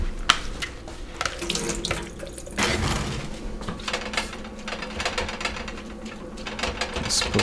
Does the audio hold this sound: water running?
yes